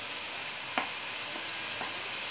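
Soft, steady sizzle of cauliflower and masala frying in a pan, broken by a few faint stirring clinks and scrapes.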